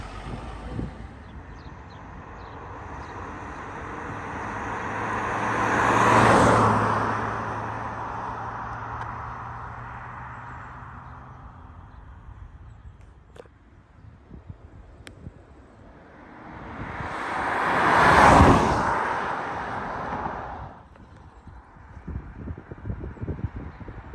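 BMW 530d with 500,000 km driving past twice behind factories, each pass a broad whooshing swell of engine and road noise that rises to a peak and fades away, with wind buffeting the microphone in between.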